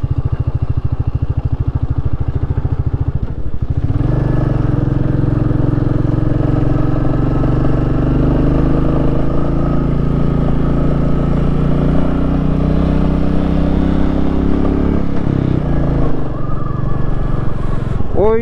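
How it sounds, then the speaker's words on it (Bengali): A motorcycle climbs a steep mountain road in North Sikkim on the Chungthang to Gurudongmar route, its engine a loud, close, unbroken drone mixed with wind rumble. "ওই নিচ থেকে আমরা বাইক চালিয়ে ওপরে এতটা উঠেছি।"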